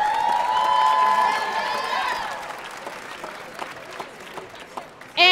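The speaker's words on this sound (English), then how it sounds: "So let's give a round of applause again for Mr." A high school class sing audience cheering with loud high whoops and shouts at first, then fading into scattered applause and crowd murmur, ending with a sudden loud burst.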